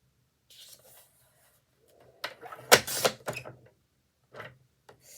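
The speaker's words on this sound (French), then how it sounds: "J'ai pas l'impression que je coupe droit." Scissors cutting paper for a craft project, a few short crisp snips clustered in the middle, close and isolated against near silence.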